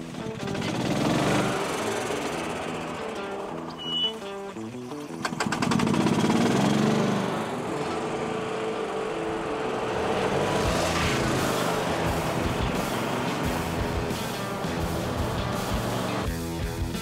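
A golf cart drives along with a buzzing, rattling motor drone. The sound is fairly loud and continuous, with a short dip, then steady running with road rumble.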